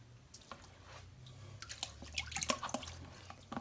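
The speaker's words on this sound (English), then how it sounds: "Now I think we need to rinse this off because there's a little residue." Water drips and splashes as residue is rinsed off a marbled white tennis shoe, a quiet run of scattered droplets and trickles over a low steady hum, growing busier toward the end.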